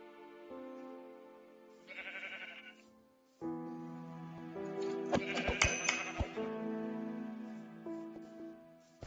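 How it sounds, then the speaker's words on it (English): Minecraft sheep bleat in the video game, a few wavering, nasal bleats spaced apart, clear and close against quiet game background, with one longer overlapping cluster in the middle. "I don't particularly enjoy killing sheep like that"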